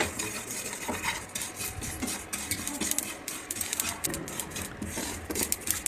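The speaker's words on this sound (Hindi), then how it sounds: "तिल को एक पैन में ले लेंगे, उसके बाद उसको भून लेंगे सुनहरा होते तक के।" Sesame seeds rattle and scrape in a pan as they are dry-roasted until golden and stirred, with a soft continuous scratching and occasional clinks of the utensil.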